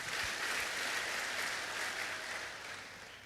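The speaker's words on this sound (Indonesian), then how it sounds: "Berikan tepuk tangan buat Tuhan." Congregation clapping for God during a church sermon: dense, steady applause filling the whole stretch, fading slightly toward the end, with no talk over it.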